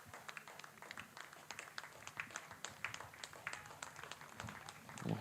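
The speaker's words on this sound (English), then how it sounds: "We'll also hear there through the ambient mic a rich round of applause for the century partnership between these two." Spectators at a Yorkshire v Durham one-day cricket match applaud a century partnership, a faint, distant round of scattered clapping that patters on steadily, picked up from afar.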